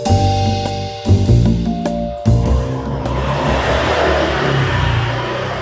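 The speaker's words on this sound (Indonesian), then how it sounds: "Itu motor yang lu beli?" A motorcycle engine revving nearby, with loud rising throttle blips and a pause between them, then settling into a rough, steady roar with broadband noise.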